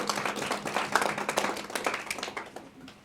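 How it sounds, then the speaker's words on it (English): Applause from the audience at a school spelling bee for 5th and 6th graders: dense, steady clapping from a crowded room that holds for about three seconds and then fades out at the end. "And so Nahum and Ruth, let's give them a round of applause."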